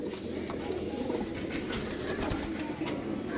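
Several female pigeons coo softly and continuously, a low, dense murmur of overlapping calls from nearby birds in a loft, steady throughout with no talk.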